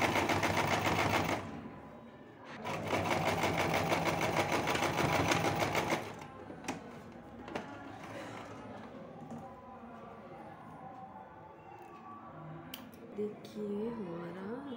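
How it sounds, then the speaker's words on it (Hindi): A sewing machine stitches along the edge of a kurti in two loud, fast bursts of rapid mechanical clatter, then falls quieter and gives way to softer handling sounds and some talk. "एकदम किनारी से हमें स्टिच करते जाना है।"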